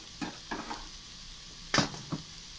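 Carrots stir-fried in a pan for a Vietnamese rice noodle dish with BBQ pork: a few short sizzling scrapes and stirring clatters, spaced apart, with one louder burst near the end, no voices.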